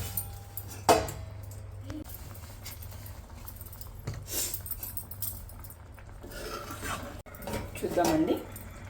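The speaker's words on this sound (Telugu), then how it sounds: "మూత పెట్టేద్దాం ఇంకా మనం." A metal lid goes onto a cooking pot of soya and drumstick curry, with a few close clinks and clatters of metal cookware and a louder rattle near the end, plus a voice talking briefly.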